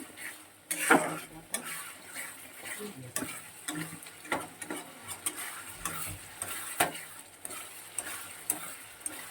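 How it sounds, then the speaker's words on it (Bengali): Fish curry masala is sautéed and stirred in a pan, giving a quiet, continuous sizzle with a close utensil scraping and ticking against the pan at an irregular rhythm. "এবার এটা খুব ভালো করে কষিয়ে নেব।"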